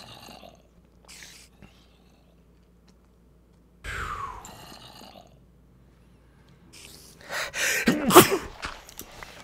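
A sneeze bursts out near the end of an otherwise quiet stretch of Minecraft gameplay, loud and close, preceded by a sharper sudden sound midway.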